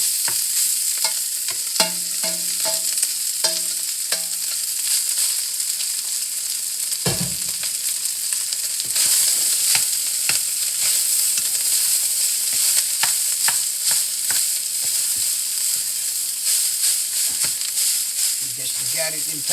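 Rice and garlic stir-fried in a pan, a steady bright sizzle running throughout with scraping and stirring clatter of a utensil against the pan, a short low knock near the middle, and faint speech at moments.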